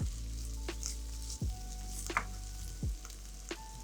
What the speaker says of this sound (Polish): Przesmażę to wszystko razem.